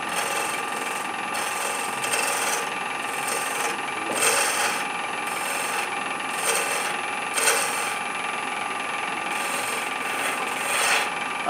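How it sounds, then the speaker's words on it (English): A hand file rasps a slight chamfer onto the edge of a workpiece near threads, repeated back-and-forth strokes in a steady rhythm, close and fairly loud. "I'm putting ever so slightly a chamfer on that"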